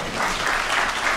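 A crowd claps steadily, a dense wash of applause that stays even in loudness, with no voices standing out.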